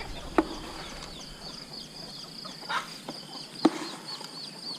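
A few soft clucks from egg-laying hens at close range, scattered and irregular over quiet outdoor background with faint insect hum.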